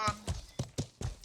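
Horse hooves clop in Life is Feudal, five or six sharp, close strikes in a quick, uneven gait with quiet gaps between them.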